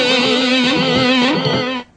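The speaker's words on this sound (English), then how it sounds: "This is the tape echo." Electric guitar played through a Mooer multi-effect pedal set to tape echo delay, a sustained bright chord with ringing repeats, loud and close, then cutting off abruptly.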